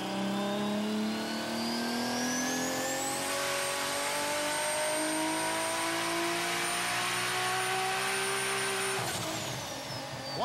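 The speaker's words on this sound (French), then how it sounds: "Le turbo est absolument immense, c'est un GT42. Là, on s'attend à du temps de réponse beaucoup, mais quand le turbo va pousser, ça va pousser une charge terrible." A tuned car fitted with a huge GT42 turbo accelerates hard, its engine note and turbo whine rising steadily, then holding a loud sustained high-pitched howl before dropping off at the end, no speech.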